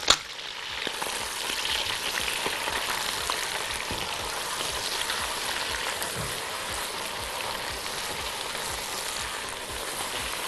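Pot of meat frying with garlic and onion for Saudi meat kabsa, giving a dense, steady hiss of sizzling with soft stirring scrapes throughout, close and without talk after a brief knock at the start.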